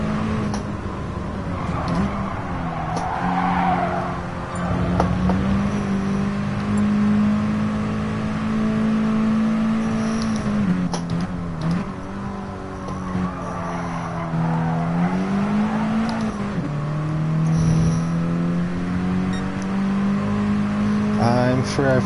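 A Mini Cooper racing engine in a Gran Turismo Sport cup race revs hard and steadily, its pitch rising and dipping through gear changes and corners, with brief tire squeal and a loud, continuous drone throughout.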